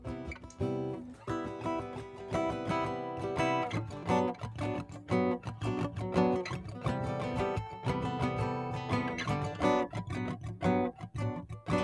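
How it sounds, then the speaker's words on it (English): Dense electric guitar riffing with steady strummed chords and a driving rhythm, loud and continuous throughout with no voices. "have the guitar part already, which sounds like this."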